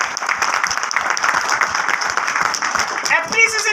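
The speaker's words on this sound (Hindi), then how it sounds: "एक बार जोरदार ताली बजा सकते हैं" An audience claps for a newly promoted director at a Modicare business meeting, with a steady burst of dense applause throughout and a voice breaking in near the end.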